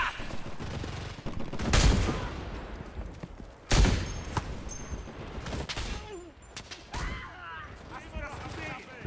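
Automatic weapon fire in the World War II shooter Enlisted during a quarry invasion: several loud, close bursts of rapid shots spaced a couple of seconds apart, mixed with battle clatter and distant shooting, with voices talking over it.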